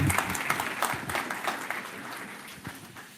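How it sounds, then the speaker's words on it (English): Conference opening session audience applause: a dense, steady wash of many hands clapping, fairly loud at first and gradually easing off, with no speech over it. "You can give them a round of applause, I think"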